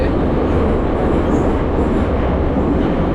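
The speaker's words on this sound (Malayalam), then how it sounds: "നമ്മളപ്പോൾ അത് മെട്രോയിൽ പൊയ്ക്കൊണ്ടിരിക്കുകയാണ്." An old metro train running through Tashkent's underground, with a loud, steady low rumble of wheels and carriage filling the whole stretch without a break.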